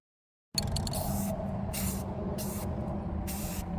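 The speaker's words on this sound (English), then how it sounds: "I'll be applying Rust-Oleum's Satin Lagoon spray paint, which closely matches the color of the original prop." Rust-Oleum Satin Lagoon spray paint hisses from an aerosol can in several steady, close bursts, the sharp spray swelling and easing in short pulses, alone.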